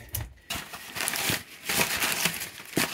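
Cardboard and paper packing crinkle and rustle close by during an unboxing, in short uneven bursts of crumpling over a few seconds.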